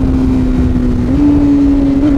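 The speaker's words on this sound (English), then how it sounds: "It sounds like a race bike." A 2021 Honda Fireblade with an aftermarket exhaust drones in a loud, steady rev close by, its pitch holding level and then stepping slightly higher partway through.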